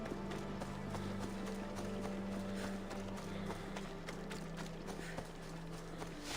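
Horse hooves in Assassin's Creed Odyssey, a quick clip-clop of running hooves over a dense, steady bed of game ambience and music, moderately distant and fairly quiet.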